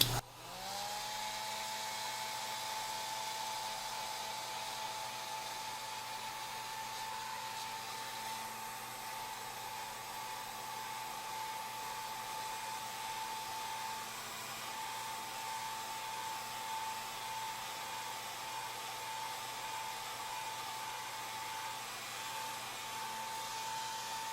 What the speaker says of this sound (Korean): 헤어드라이기 중에서 말려 보겠습니다